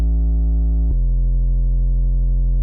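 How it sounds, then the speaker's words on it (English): A sub bass synth in a Sprunki remix holds one deep, clean note, then steps down to a slightly lower pitch partway through, sustained and loud on its own. "don't forget that sub bass"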